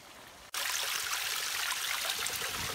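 A small mountain spring trickles and splashes nearby, its water noise starting abruptly after a brief quiet moment and then running steady and close.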